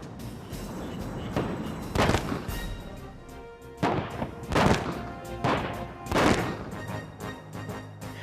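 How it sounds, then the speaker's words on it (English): Large simulated cruise-missile impact explosions at a US Air Force live-fire demonstration, like 500-pound bombs, boom repeatedly over a continuous rumble, with several heavy blasts spaced a second or so apart, loud and reverberant at a distance. "The explosion simulated the impact of conventional air-launched cruise missiles launched from a B-52 hundreds of miles away"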